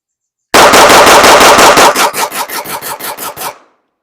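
Rapid string of about fifteen loud shots from a 9mm pistol fitted with a PSA compensator, an even fast rhythm that slows slightly toward the end, close and sharp with no talking.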